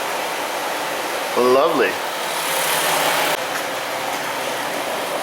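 A car engine idles in a steady hum while the A/C compressor cycles back on, shifting the drone partway through; someone speaks briefly over it.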